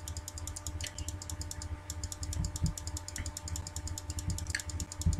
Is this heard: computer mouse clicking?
yes